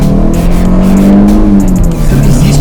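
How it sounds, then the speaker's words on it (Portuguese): Citroën Xsara VTS engine revving hard with strong induction noise, a loud rising and falling engine note held close over about two seconds, no speech. "você acelera um carro e ouve o barulho da indução, você ouve o ar entrando no motor"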